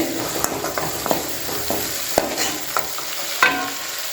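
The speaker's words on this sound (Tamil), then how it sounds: "ஒரு அஞ்சு நிமிஷம் நல்லா வதக்கிக்கோங்க நல்லா எண்ணெயில் நல்லா வதக்கினா" Turkey berries (sundakkai) sauté in hot oil for a bitter-berry curry, with a steady close sizzle broken by irregular spoon scrapes and knocks against the pan.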